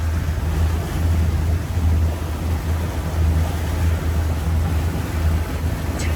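A large container ship moving through a Florida waterway gives off a low, steady rumbling drone heard from a boat nearby, with wind and water noise all around and no voices.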